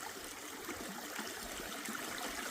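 Creek water running high and spilling over a rock in a gold-bearing streambed at Warrandyte, a steady broadband rush of flowing water with no talk, close and continuous.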